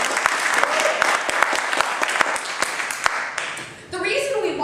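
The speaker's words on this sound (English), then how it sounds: "So we should applaud that." Applause from an improv comedy audience celebrating a Portland Shakespeare Festival award: dense, steady clapping with sharp individual claps standing out, fairly close and loud, fading briefly near the end before a voice comes in.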